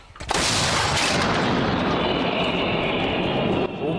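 A heavy artillery blast goes off nearby, followed by a long, loud roaring rumble that stays strong for several seconds.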